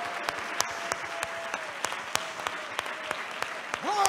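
Scattered, distinct handclaps from a church congregation at an evangelical service, sharp and evenly spaced over a faint murmur, with a voice rising briefly at the end.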